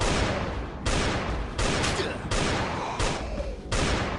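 Rapid bursts of gunfire from a gun in the video game Last Day on Earth, several loud repeated volleys separated by brief gaps, close and dominant throughout.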